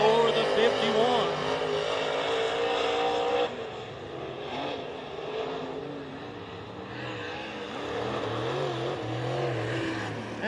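Race car lapping the oval at Wartburg Speedway, its engine roar loud at first, then fading and rising again as it circles, with a voice talking over it.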